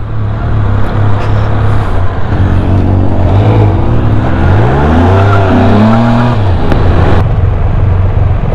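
A Can-Am Spyder three-wheeled motorcycle under way, its engine droning steadily with the pitch rising and falling through gear and speed changes over constant wind rush, with no talking.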